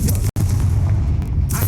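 The Confringo explosive spell in the video game Hogwarts Legacy goes off as a loud, heavy boom with a dense rumbling tail. A short silent break cuts in near the start, and no one speaks.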